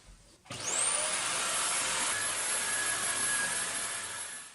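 An iRobot Roomba 690 robot vacuum starts up after a brief quiet moment, then runs with a steady, loud whirring motor and brush hum, a high-pitched whine holding constant throughout.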